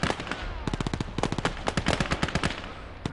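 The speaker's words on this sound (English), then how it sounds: "And there's a machine gun" Machine gun fire in the World War II Eastern Front game Call to Arms: Gates of Hell, a loud, close, sustained stream of rapid overlapping gunshots with irregular bursts and heavy impacts throughout.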